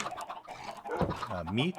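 Minecraft chickens on a chicken farm give a short run of clucks, close and fairly loud, mixed with someone speaking.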